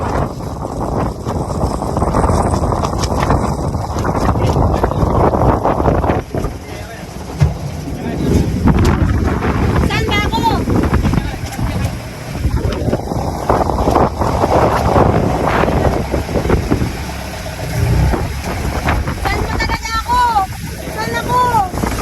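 Strong wind buffets the microphone while waves slosh and crash around a small boat at sea, loud and continuous, with a voice speaking over it.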